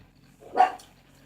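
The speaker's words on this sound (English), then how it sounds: "That's my little chihuahua. He barks at everything." A small chihuahua gives a single short, sharp bark, close by and fairly loud against a quiet room, with no talk.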